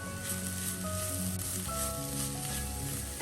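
Carrot thoran stir fry sizzles steadily in a pan, a constant bright hiss of frying with faint crackles, close and even throughout, no voices.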